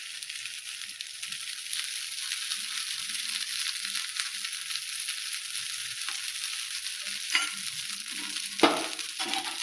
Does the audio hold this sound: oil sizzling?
yes